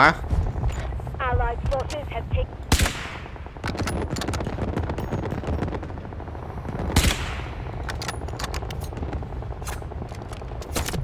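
Sharp gunshots and automatic bursts crack through a Delta Force shooter match. A sniper rifle, the AWM, is among the weapons, and two loud, prominent shots stand out among scattered rapid fire while players talk throughout.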